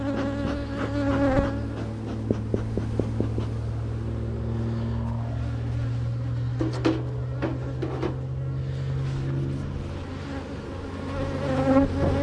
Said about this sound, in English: Try and clear some of these bees.